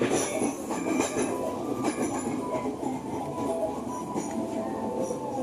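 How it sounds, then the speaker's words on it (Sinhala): A train rumbles along the tracks at close range with a continuous clatter and high metallic wheel squeals throughout. "මේ ට්‍රේන් එක යනවා පේනවා"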